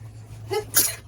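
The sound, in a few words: sneeze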